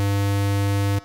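A 100 Hz square wave from a synthesizer holds a steady, buzzy tone rich in overtones for about a second, then cuts off abruptly.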